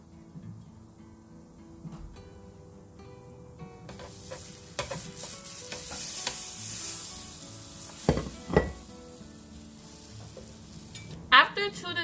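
Slices of brioche French toast fry on a large griddle, giving a soft, steady sizzle with occasional clinks and scrapes of utensils, fairly quiet and close, with a brief sharper clatter near the end.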